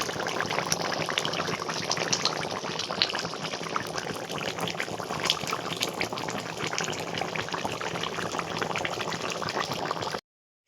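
Meat curry with fresh coriander simmers and boils in a pot, a steady close bubbling and hissing that runs unbroken for about ten seconds before cutting off.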